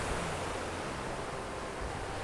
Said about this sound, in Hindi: वेव्स अच्छी आ रही है